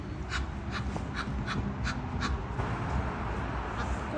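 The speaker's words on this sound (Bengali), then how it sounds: "কাকও চলে এসছে।" Crows caw in a quick series of six sharp calls at moderate distance over steady outdoor background noise beside a canal in the Netherlands.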